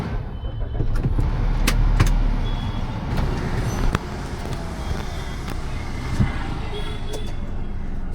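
A car idles and pulls away on a busy Kolkata street, moving aside for an approaching tram, with steady engine rumble, passing traffic noise and a few sharp clicks and knocks from the cabin throughout.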